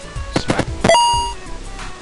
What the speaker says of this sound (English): pretty loud beeping, but oh well.